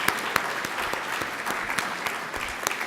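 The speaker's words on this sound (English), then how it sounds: "round of applause." A conference audience at a healthcare event gives a round of applause, fairly quiet and steady clapping with a few sharp, distinct claps standing out from the wash.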